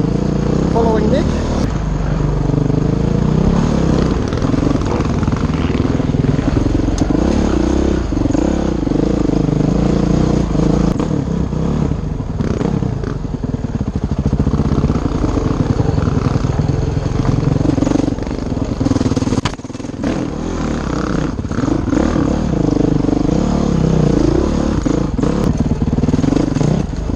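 A 450X dirt bike ridden on trail at Mt Kembla, its engine loud and close throughout with steady revving and throttle surges, occasional clatter, and speech mixed in under the engine noise.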